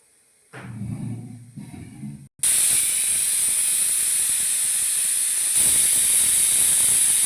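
A pressure cooker of mung beans rumbles quietly before a loud, sustained steam whistle bursts out and hisses on steadily without a break.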